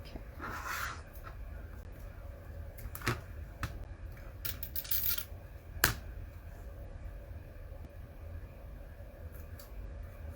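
Scissors snipping small stems off fabric pumpkin pieces for a quilt, a few sharp, quiet clicks spaced seconds apart against a low background hum.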